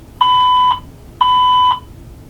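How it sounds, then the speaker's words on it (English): Building alarm going off in two identical loud electronic tones, each holding steady for about half a second with a short gap between, over quiet room noise. "We had a fire alarm or some sort of alarm"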